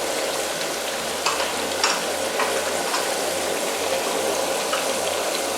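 Hyderabadi biryani is stirred in a pot after masala powder goes in, giving a steady sizzling fry under repeated scraping, clanking strokes of the spoon, close and fairly loud.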